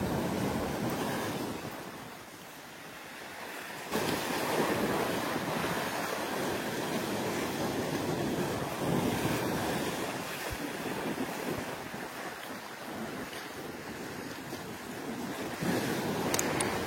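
Strong wind buffets the microphone with a continuous roaring rush, mixed with surf and open-air noise by the sea, no voices.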